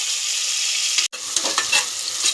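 Onions fry in a pan for a simple pulao, with a loud, close, continuous sizzle of hot oil that breaks off for an instant and then carries on with light crackles and scraping.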